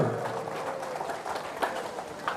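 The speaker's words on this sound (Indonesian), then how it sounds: "Ayo kan tepuk tangan dari para Bandar Kuala negara panitia ini" A church jubilee gathering applauds the Bandar Kuala committee with a dense, steady patter of many hands clapping from a moderately distant crowd.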